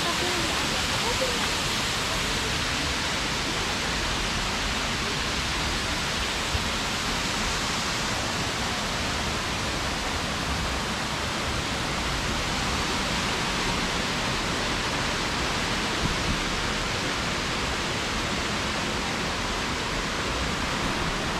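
Taman Beji Griya waterfall in Bali pours steadily into a pool. The dense, continuous rushing roar stays loud and unbroken throughout.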